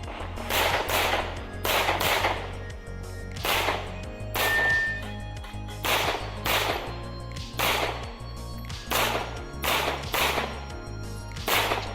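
Pistol shots at a USPSA practical shooting match ring out in a steady rhythm of about a dozen sharp cracks spread evenly over twelve seconds, moderately distant with some outdoor echo and no talk.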